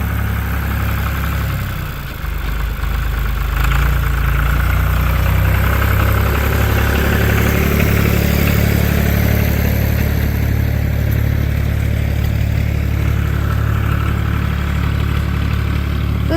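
A small John Deere 820 tractor idles outdoors, with a steady low engine drone that stays constant throughout, close and loud.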